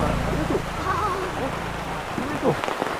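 Steady rain patters down continuously in Uttarakhand, India, at the Kasar Devi temple, with people talking nearby over the hiss.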